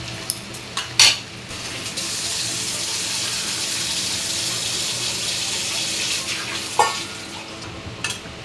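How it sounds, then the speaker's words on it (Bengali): Water pours in a steady, loud rush for several seconds into a cooking pot of prawns with taro root, preceded and followed by a few brief clanks of the pot. "এবার আমি জল দিয়ে ঢেকে দেব, যতক্ষণ না সেদ্ধ হচ্ছে ততক্ষণ"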